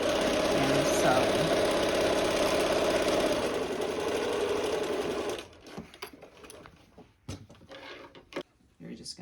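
A sewing machine stitches a lunch bag seam in a steady, fast, buzzing run for about five seconds, then stops, leaving a quiet room with scattered handling clicks and a voice speaking.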